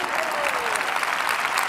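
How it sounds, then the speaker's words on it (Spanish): A church congregation claps together during a sermon, a dense, steady burst of applause from many hands filling a large room, with a voice faintly over it. "Si ustedes no aplaudían, yo iba a aplaudir."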